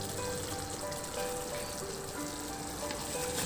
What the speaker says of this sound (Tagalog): Pagka napansin mo na okay na at kumulo na yung ating sauce, ilagay na natin yung pinirito nating bangus.